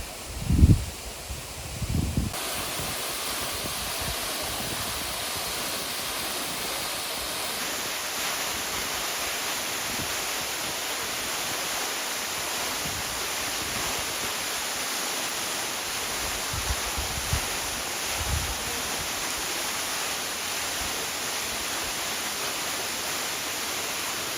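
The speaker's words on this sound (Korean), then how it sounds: "구룡 폭포에 왔습니다." Guryong waterfall in Sogeumgang Valley on Mt. Odaesan roars as a dense, steady rush of falling water close by, preceded by a few brief thumps at the start.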